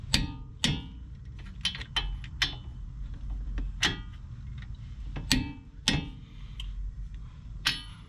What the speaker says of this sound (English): I want to take the torque wrench and tighten it using a 21mm socket